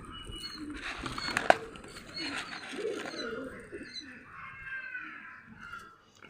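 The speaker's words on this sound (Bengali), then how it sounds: "দেখুন আমার শখের কবুতর এগুলো।" Pet pigeons in a small home farm coo softly while being fed, low throaty murmurs and bubbling calls layered over quiet background rustle.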